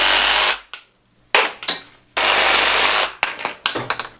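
Conduit being cut to length while installing a sub panel, heard as several bursts of harsh, broadband cutting noise with short pauses between passes, close and loud, without talk.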